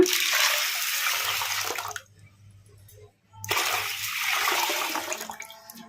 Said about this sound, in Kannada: ಈಗ ಇದಕ್ಕೆ ನೀರು ಹಾಕ್ಕೊಂಬಿಡೋಣ